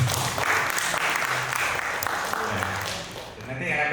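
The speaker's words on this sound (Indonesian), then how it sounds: "Oke, tepuk tangan." Audience at a book talk in Indonesia breaking into applause, a loud, dense roar of clapping close by, with faint voices and a brief tonal ring mixed in.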